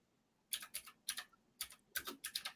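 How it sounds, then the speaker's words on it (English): Typing on a computer keyboard, quiet and fairly close, in bursts of rapid clicky keystrokes separated by short pauses, with no one talking. "I'm just typing here"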